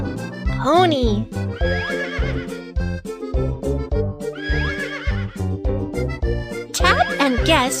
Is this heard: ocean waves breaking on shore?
no